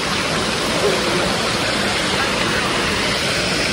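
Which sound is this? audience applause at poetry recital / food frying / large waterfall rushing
large waterfall rushing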